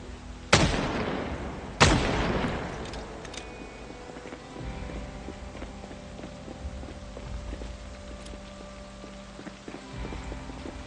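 Two sharp, loud gunshots crack out in the Project Zomboid video game, spaced about a second apart, followed by a lingering low engine hum and faint background game sounds.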